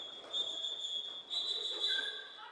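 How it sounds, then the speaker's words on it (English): Referee whistles at a roller derby bout, shrill sustained blasts sounding over an echoing arena murmur, with a second whistle joining in near the end. "All I can hear is whistles."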